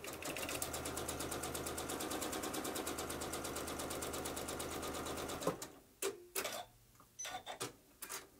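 A sewing machine stitches a churn dash quilt block in a fast, even run for about five seconds, then stops, leaving a few scattered clicks and handling knocks.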